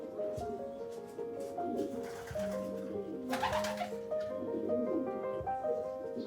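A racing pigeon coos softly in short repeated phrases, close by and moderately faint, mixed with other background tones and noises.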